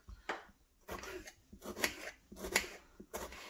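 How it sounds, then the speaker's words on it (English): A knife cuts tomatoes into chunks for salsa, giving about five separate crisp chopping strokes with short pauses between them. The cuts are close and clear, with no talking. "So we're just going to cut these into chunks real quick."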